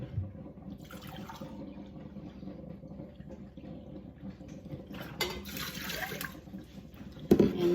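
Cider vinegar is poured into a pot to start a canning brine for cowboy candy relish: a quiet kitchen room tone, then a brief splashing pour of liquid near the end.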